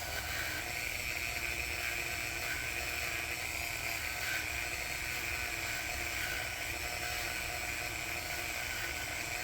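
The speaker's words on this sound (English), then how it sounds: "it's just a Dremel with a little bitty brush on it, and just cleaning that surface off just a little bit" A Dremel fitted with a small wire brush cleans a gasket surface on a 1968 BSA Thunderbolt 650 motorcycle, a steady high-pitched whirring buzz that holds constant and close throughout.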